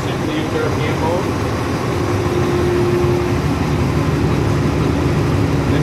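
Fire truck engine in pump mode during garage testing, a steady low diesel drone holding at raised RPM with a faint whine, running continuously under a voice.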